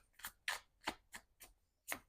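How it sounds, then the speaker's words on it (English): Tarot cards being shuffled by hand, six quick papery riffles and slaps in an uneven rhythm with brief pauses between, close and faint with no talking. "I shuffle my cards like differently sometimes so they don't bend and get stuck in certain positions"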